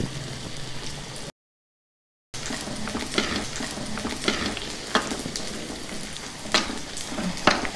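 Tempering of dried red chillies frying in oil for gongura mango dal: a continuous close sizzle with stirring scrapes and spatula clinks, interrupted by a brief gap of silence before the frying resumes.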